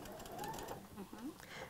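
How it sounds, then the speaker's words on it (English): A sewing machine stitching quilt pieces together for a lotus bloom wall hanging, a brief faint whirring run heard beneath people talking. "So she's going to sew it together."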